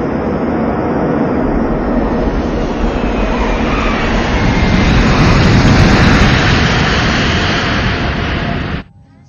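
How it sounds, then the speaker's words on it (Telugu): An airplane making an emergency landing in heavy rain, a loud, steady roar of engine and rushing noise that swells midway and then drops off sharply at the end. "అందువల్ల మన ఫ్లైట్ ని గోవాలో ఎమర్జెన్సీ ల్యాండింగ్ చేస్తున్నాం."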